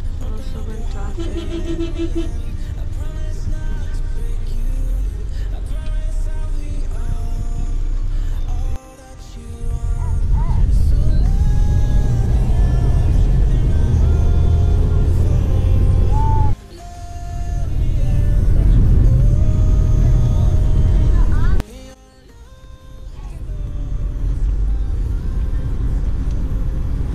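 Inside a car in Manila traffic, a loud steady engine and road rumble fills the cabin, with several abrupt shifts in level as the vehicle stops and moves again.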